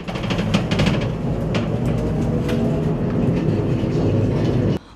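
Special rail machinery runs along the tracks inside a sewer tunnel, producing a loud, steady, echoing rumble with a faint metallic clatter that continues unbroken, then cuts off abruptly near the end.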